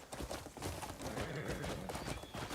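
Horse hooves gallop in a rapid, steady clip-clop rhythm in a video game, continuous and fairly close with no speech.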